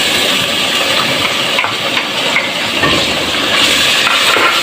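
Ginger garlic paste fries in a pan with lightly golden onions for daal mash, giving a loud, steady, close hiss and sizzle that continues without a break and with no voices.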